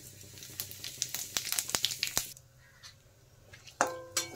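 A bay leaf and whole cumin seeds frying in hot oil make a close sizzle with quick crackling pops. The pops are dense early on, thin out, then a fresh burst of sizzle follows.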